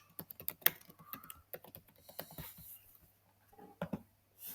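Quick, irregular clicks of a computer keyboard as a password is typed, close and distinct keystrokes with brief pauses between bursts, no talk.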